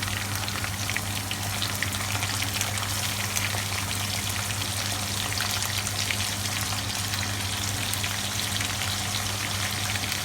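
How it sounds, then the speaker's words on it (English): Steady, close sizzling and crackling of prawns frying in a hot pan, continuous and loud with no talking. "it's sizzling away nicely"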